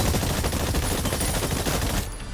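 Continuous rapid gunfire from a futuristic shooter game's target-practice range, a dense, loud, sustained barrage of shots with no pauses, cutting off sharply near the end.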